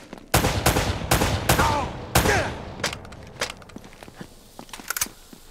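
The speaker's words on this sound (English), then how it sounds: "They're shooting at you too" Video game gunfire in Uncharted: Drake's Fortune, a rapid burst of loud, close shots followed by more scattered, fainter gunfire.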